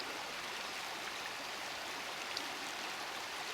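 A river flowing over a gravel bank, a steady broad hiss and babble of running water, even and unbroken, with no voices.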